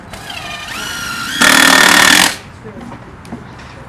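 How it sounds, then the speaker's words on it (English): Power driver sinking a 4-inch screw into a wooden post while fixing a little free library at a community center, one loud, roughly one-second buzzing burst between stretches of background talk. "He's using 4-inch screws to secure the little free library to the post."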